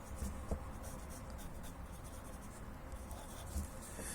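Pen or pencil writing musical notes on paper during a solfeggio lesson, a soft continuous scratching with a few light taps, close and faint, no talking.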